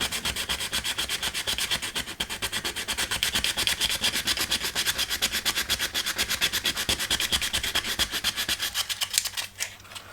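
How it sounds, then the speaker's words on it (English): Coarse 80-grit sandpaper scrubbing rapidly back and forth on a painted 1/35 plastic tank model, a steady rhythmic rasp of quick strokes, close and loud, easing off at the end. "I just want to see how it behaves when sanding."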